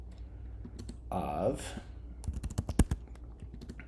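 Rapid clicks on a computer keyboard come in a quick burst, close and distinct, just after someone speaks briefly.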